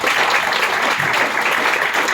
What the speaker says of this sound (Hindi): जोरदार ताली बजा सकते हैं